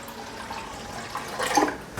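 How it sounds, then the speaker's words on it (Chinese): Water filling a cooking pot on the stove, a steady liquid rush with a brief louder splash near the end, close and alone. "倒入水烧开"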